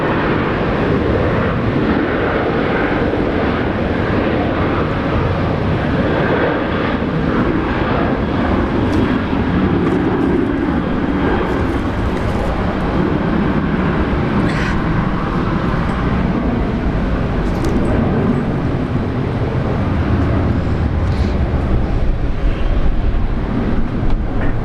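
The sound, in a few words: jet aircraft taking off for Sydney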